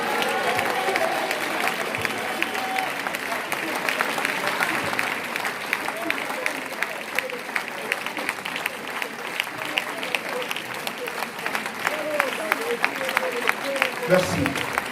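A church congregation at a sermon breaks into sustained applause, a dense crowd of clapping hands filling the room steadily, with a voice speaking over it.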